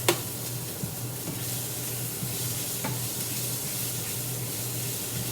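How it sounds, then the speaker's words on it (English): Steady sizzling and crackling of sausages frying in a pan, continuous and close, with a faint clink near the start. "So turn that off, let them sizzle a little bit."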